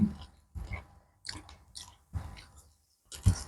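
Small crispy cooked frogs are chewed with crunchy bites in irregular bursts separated by brief pauses. The chewing is close and moderately loud, with no talking.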